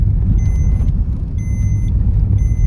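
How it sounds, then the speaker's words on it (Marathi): A car drives ahead with a loud, steady engine rumble from inside or nearby, and three separate bursts of reversing-style beeps sound over it at intervals. "गाडी पुढे चालली आहे."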